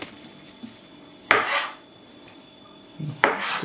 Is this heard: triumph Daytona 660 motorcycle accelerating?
no